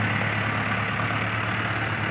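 Arjun 605 tractor engine pulling a loaded trolley, a steady mid-to-low diesel drone that holds at an even, moderately loud level throughout with no talk.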